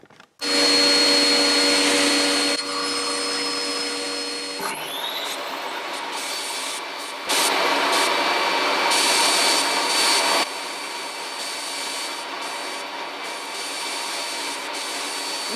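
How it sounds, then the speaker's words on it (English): A DeWalt DWE7485 table saw running together with two shop vacuums and a dust filtration unit in a workshop, a loud, dense, continuous roar whose pitch and level shift as machines change, with no talk. "It's the saw, 2 shop vacs,"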